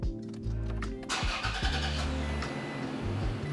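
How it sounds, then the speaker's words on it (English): A Toyota Tacoma engine cranks and catches during a DIY oil change, then settles into a steady idle, close and alone with no talking. "so start the engine."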